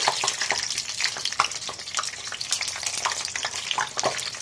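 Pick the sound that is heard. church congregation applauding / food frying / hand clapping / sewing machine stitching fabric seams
food frying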